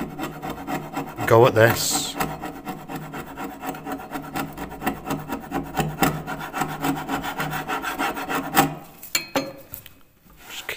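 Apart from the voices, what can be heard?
scraper scraping dampened wooden loft stairs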